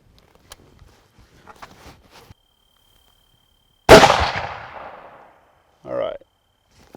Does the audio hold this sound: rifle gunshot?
yes